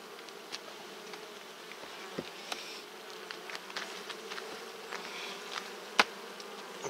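Bees buzzing steadily around hives during honey extraction, a continuous close swarm hum with occasional soft clicks and one sharper knock.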